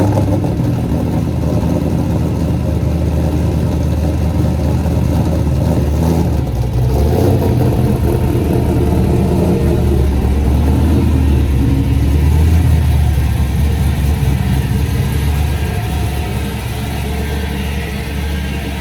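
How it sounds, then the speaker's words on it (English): A Chevrolet Camaro engine runs loudly and continuously as the car is moved, a steady idle rumble rising into mild revs and settling again, with no talk. "gotta move the Camaro"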